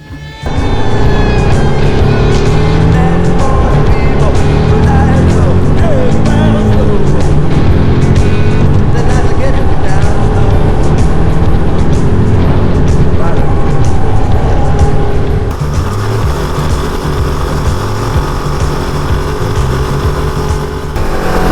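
A KOVE 450 Rally motorcycle roars at high speed with loud, continuous engine drone and wind rush, while a rider talks over it throughout.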